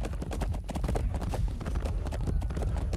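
Hooves clopping at a steady trot as a horse is ridden in the medieval combat game Chivalry 2, a dense, busy beat of hoof strikes with battle noise around it.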